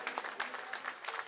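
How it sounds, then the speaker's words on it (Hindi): A crowd at a political rally in Delhi applauding, brief rhythmic clapping from many hands at moderate distance. "ताली बजा दीजिए इनके लिए जोरदार।"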